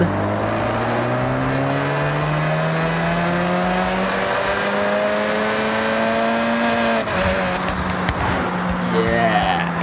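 A Ford Focus RS fitted with a race exhaust in Forza Horizon 6 revs and pulls through rising gears, loud and close, with a clear shift near the end.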